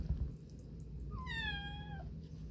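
A single clear cat meow rising then falling, about a second long, close and alone over a low steady background hum.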